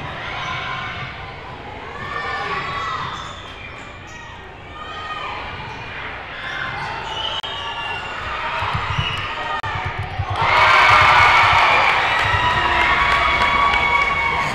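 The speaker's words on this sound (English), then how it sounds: "Here the crowd goes wild." A basketball game crowd roars and cheers after a three-pointer, swelling into a loud burst of shouting near the end, with a commentator talking over the noise and ball bounces in the gym.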